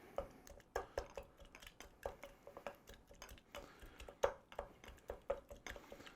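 Strawberries are mashed with a muddler in a cocktail glass, giving a steady run of close, sharp taps and knocks against the glass with no talking.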